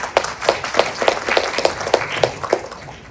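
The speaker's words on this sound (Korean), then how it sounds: "큰 박수로 맞이해 주시기 바랍니다" Applause from a seminar audience at an education administration forum on a rainy day, a run of distinct, fairly sparse claps spaced at an even rhythm, moderately loud and heard alone without talk.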